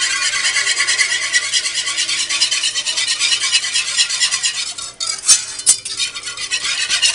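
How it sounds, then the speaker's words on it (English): A mixture beaten hard in a pan, making a steady fast scraping and clattering that runs throughout, loud and close, with a couple of sharper clinks near the end. "Continue to mix vigorously. Basically, you just got to beat it until you get all the lumps out of it."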